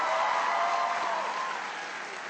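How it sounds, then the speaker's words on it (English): An audience claps steadily for Mayor Gray of Washington, D.C., a dense, sustained round of applause from a large crowd that fades slightly toward the end. "Please give him a big round of applause."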